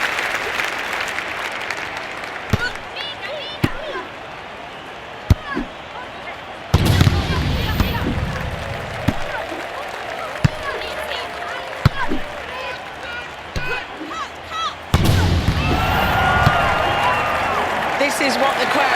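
Stadium crowd in the London 2012 Olympic video game, cheering and applauding in loud swelling waves over a tight match, with sharp ball or impact hits and a commentator speaking throughout.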